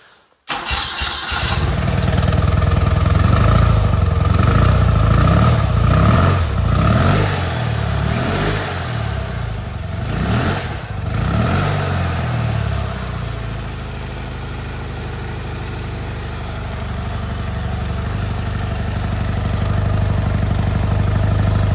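Old engine that sat unused for 20 years cranks and fires up, revving roughly at first, then settling into a steady, loud idle that runs on.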